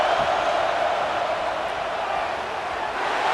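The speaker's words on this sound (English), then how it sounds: "Here comes the noise from this big crowd in Happy Valley on 3rd down" Steady roar of a big stadium crowd in Happy Valley on third down during a College Football 26 video game, a dense continuous wash of noise with no single voice standing out.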